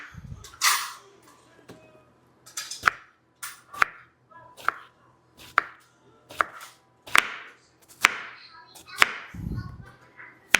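Zucchini squash sliced with a kitchen knife on a cutting board, about a dozen crisp, separate knife strikes at a steady pace, close and fairly loud, with a few other sounds from the kitchen in between.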